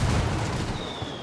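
A frag grenade explosion in Ghost Recon Wildlands fills the moment with a loud, broad roaring blast that slowly decays, with a thin high ringing tone emerging.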